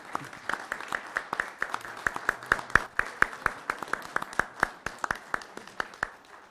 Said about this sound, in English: Let's have another round of applause for Ms.